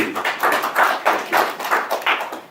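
A town hall audience applauds in a brief, uneven round of clapping, individual claps distinct and pulsing in loose rhythm without voices.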